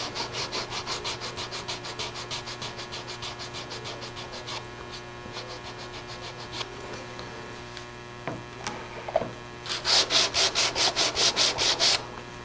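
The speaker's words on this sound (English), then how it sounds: "I'll check periodically to make sure that I'm not sanding through the masking tape and not damaging that surface below." Hand sanding of a wooden surface, steady rhythmic back-and-forth rubbing strokes close up, faster and brighter bursts near the end, with a low mains hum underneath and no talking.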